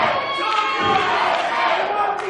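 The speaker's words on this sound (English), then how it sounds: "this capacity crowd getting behind Drake Braddock right now" Capacity crowd at a wrestling arena roaring and cheering for a wrestler in the ring, a dense, continuous wall of voices and shouts throughout, loud and close.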